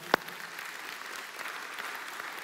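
Church congregation during a Spanish-language sermon breaking into applause: one sharp clap up front, then a steady, moderately loud wash of clapping from the crowd.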